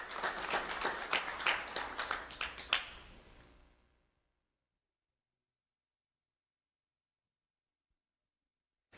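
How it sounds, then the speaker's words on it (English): An audience applauds students being honored, a dense burst of clapping from many hands lasting about three seconds before fading out into silence. "Round of applause for Madison and Jalen."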